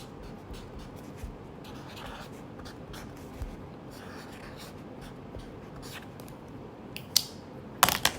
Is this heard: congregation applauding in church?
no